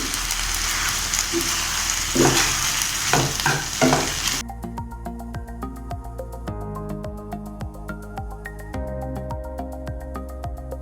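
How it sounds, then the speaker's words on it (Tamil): Gongura (sorrel) leaves sauté in a pan with a steady sizzle and scraping stir strokes for about four seconds; gentle music then takes over and the cooking sound drops away. "நான் கொஞ்சமாக போட்டு வதக்கிக்கிறேன்"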